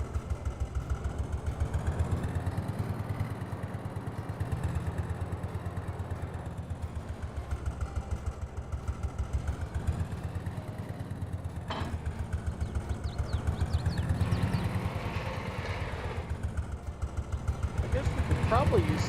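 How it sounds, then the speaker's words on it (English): A Porsche diesel tractor engine in Farming Simulator 22 chugs at a rhythmic idle with a mid-pitched clatter that swells and eases, while a voice talks over it. "So these are more of our Porsche tractors."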